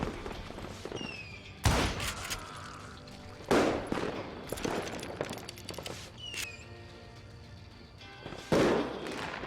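Sharp gunshots and explosive bangs ring out in the Call of Juarez Gunslinger video game, a handful of loud separate cracks spaced a second or two apart, with faint whistling and crackle between them and occasional talk.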